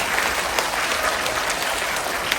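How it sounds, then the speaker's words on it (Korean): An audience at a 20th-anniversary event for the Korean film production company 외유내강 applauds a film director, with steady, dense clapping filling the room throughout and no voices over it. "겸손한 말씀을 해주신 우리 이승환 감독님께 박수 한번 더."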